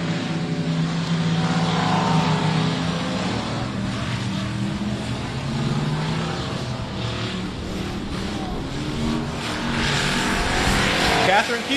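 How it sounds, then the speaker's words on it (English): A race car at the I-37 Speedway roars steadily around the track, its engine tone sliding up and down, while an announcer talks over it throughout. "showing good control of that car getting around this racetrack"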